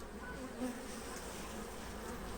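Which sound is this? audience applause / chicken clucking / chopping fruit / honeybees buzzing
honeybees buzzing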